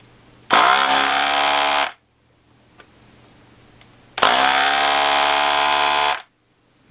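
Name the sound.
Gaojie S-998P desoldering gun pump running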